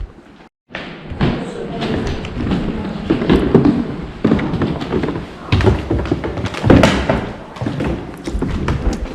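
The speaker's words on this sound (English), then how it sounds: "Creaky steps." Old wooden steps from 1880 climbed inside a quilt museum, giving a run of irregular close thuds and creaks with the footfalls, under some low background voices.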